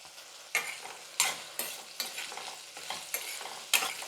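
Okra sautéing in a pan, stirred in a steady rhythm of about eight sharp scraping strokes over a soft background sizzle, close and clear, with no talking.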